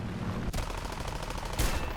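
Aircraft machine guns firing in War Thunder during a jet dogfight, two sharp bursts of rapid fire cutting through a steady engine drone, the second burst louder and heavier.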